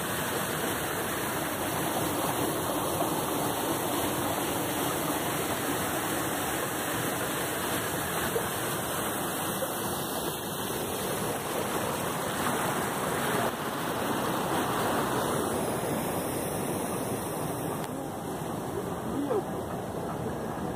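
Water rushes steadily through the wheel of a water-powered flour mill, a loud, continuous roar and splash that holds without a break throughout.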